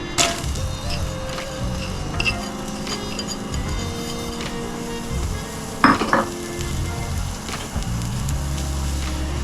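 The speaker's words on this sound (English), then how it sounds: "Here go my onions." Onions sizzle in a pot for a one-pot kielbasa stew, a steady crackling fry under faint kitchen clatter, with a sharp clink of utensils near the middle.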